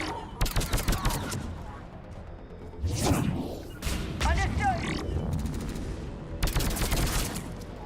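Gunfire in the sci-fi shooter Mass Effect 3, played on Insanity difficulty: several loud bursts of rapid shots with whooshes and impacts, spread across the clip, with a voice heard between the volleys.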